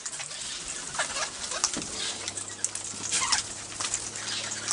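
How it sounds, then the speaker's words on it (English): Male and female king parrots call close by in short, scattered squawks and chirps over a steady background, with soft fluttering and a low hum beneath, and no talking. "Here's the one with The male and female king parrot."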